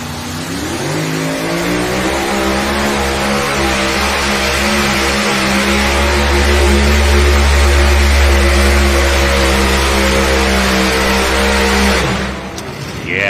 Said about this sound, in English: The Ohio Express Junior tractor and Craig Sage.